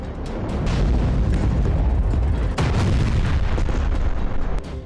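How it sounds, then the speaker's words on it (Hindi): Continuous loud, dense rumbling blasts and booming bursts of anti-tank missile explosions, one after another, filling the space without pause. "देखिए मिसाइलों से कैसे जोरदार धमाके हो रहे हैं।"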